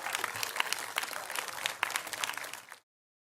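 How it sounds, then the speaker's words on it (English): Audience applause at a design engineering conference, a brief burst of dense clapping from a crowd that cuts off abruptly after under three seconds. "Now I want to see some applause."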